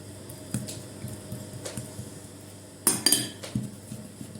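A metal spoon spreads börek filling across raw dough, giving soft, close scraping and squishy smears with a couple of sharper clinks near the end, quiet and without voices.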